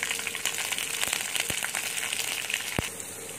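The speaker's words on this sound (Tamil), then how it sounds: "நம்ம கடலைப்பருப்பு, கருவேப்பிலை, பச்சை மிளகாய் இதெல்லாம் போட்டு நல்லா வதக்கிடலாம்." Chana dal, curry leaves and green chilies sauté in hot oil in a pan, giving a steady close sizzle and crackle with a few sharp pops.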